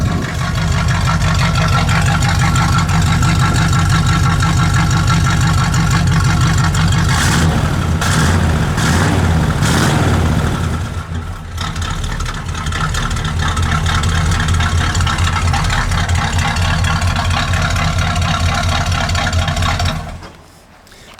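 A 1969 Chevelle's engine idles steadily out the tailpipes, a loud, close, deep rumble that holds even throughout, with a few brief clicks partway and a drop in level near the end.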